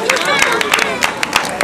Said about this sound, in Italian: Un applauso a Precious.